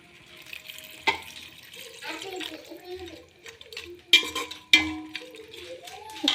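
Water is poured into a cooking pot in a home kitchen, with splashing and trickling bursts under a child's chatter and other voices.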